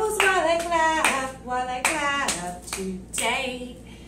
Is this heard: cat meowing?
no